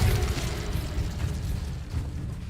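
Incendio fire spell cast in Hogwarts Legacy, a loud whooshing burst of flame with crackling, mechanical-sounding texture, fading then flaring again briefly near the end.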